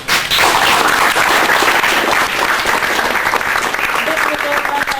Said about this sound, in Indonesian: Sekali lagi berikan aplaus